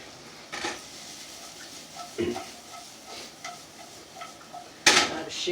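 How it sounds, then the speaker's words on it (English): Onions sizzle faintly in a pan under scattered clinks and knocks of stirring utensils, with a sharper clatter near the end. "Got a little sizzle on the onions."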